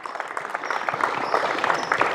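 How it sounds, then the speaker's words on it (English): A small audience at a skills and drills session applauds, scattered hand claps building into a moderate patter over a couple of seconds, with no one speaking. "Let's give him a round of applause"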